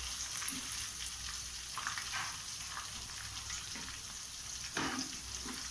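Masala sautéing in a pan for butter chicken, heard as a low continuous sizzle with faint scrapes of stirring, close and quiet, with no voices.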